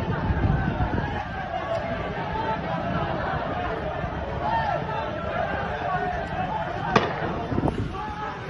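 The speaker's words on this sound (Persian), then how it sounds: "تیراندازی مستقیم نیروهای دولتی به مردم نمازگزار" Government forces open fire on Friday worshippers on a street in Zahedan: a steady murmur of crowd chatter is broken near the end by one sharp, loud crack and a fainter one just after.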